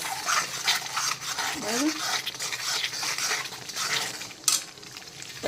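Butter stirred into paneer bhurji sabzi in a pan, with a spoon scraping and clinking against the metal over a soft sizzle while someone speaks briefly nearby.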